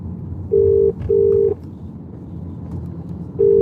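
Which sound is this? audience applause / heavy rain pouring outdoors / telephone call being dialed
telephone call being dialed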